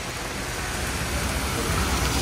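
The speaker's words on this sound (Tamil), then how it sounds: "இப்போ பாருங்க ஊற்றுன்னு ஊற்றிட்டுருக்கு" Heavy rain pouring outdoors on a rainy day in Bangalore, a dense, steady hiss of downpour that fills the whole stretch at a constant loud level, with no voices over it.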